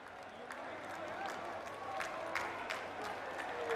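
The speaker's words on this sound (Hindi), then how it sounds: "आप सब अपनी तालियों के पुष्पों से माननीय प्रधानमंत्री जी का स्वागत" An audience at a university foundation-stone ceremony applauds to welcome the Prime Minister, a steady crackle of many clapping hands building slightly over several seconds, heard from a distance in a large gathering.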